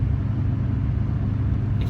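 A car drives steadily down the road, heard from inside as a constant low engine and road rumble with no talk.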